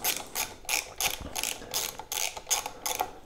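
Powerblock knurled dumbbell grip being tightened, a series of about eight close, sharp ratcheting clicks in an even rhythm with short pauses between bursts.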